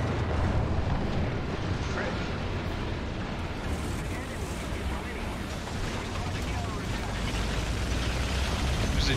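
A War Thunder tank battle plays as a dense, continuous roar of rumbling explosions and gunfire with no clear gaps, with a voice talking over parts of it.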